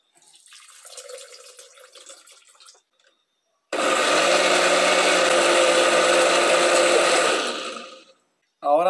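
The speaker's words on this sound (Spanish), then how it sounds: "Después de que ya hemos terminado de cortar las carambolas, nos corresponde licuarlo." A blender runs loud and steady for about four seconds as it purées cut star fruit (carambola) for a homemade juice drink. It starts and stops abruptly after quieter kitchen handling noises.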